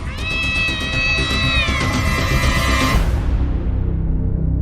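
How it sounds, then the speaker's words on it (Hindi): A cat lets out a long, loud, wailing cry close by, its drawn-out tone sliding over a few seconds before breaking off under a dramatic sound effect. "बिल्ली रो रही है और बिल्ली का रोना अशुभ होता है"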